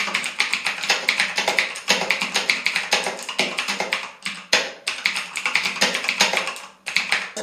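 Madgiga K400 mechanical keyboard with blue switches typed on quickly, giving dense, loud, clicky keystrokes in steady bursts with two brief pauses, close up and with no talking.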